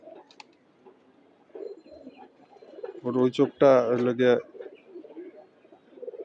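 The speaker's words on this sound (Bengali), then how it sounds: "আরও কয়েকটা কবুতর দেখি এই যে আরেকটা কবুতর" Pigeons coo softly in a loft, low murmuring calls in the background, while someone speaks close by in a short burst.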